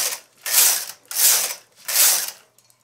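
A knitting machine carriage sweeps across the needle bed while knitting rows for bunny slippers, three loud, close whooshing passes with mechanical clatter, evenly spaced about half a second apart, alone without talk.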